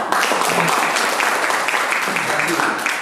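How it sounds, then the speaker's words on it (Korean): Sustained audience applause fills a forum session hall, a dense, even crackle of many hands clapping throughout. "박수 한번 쳐주세요."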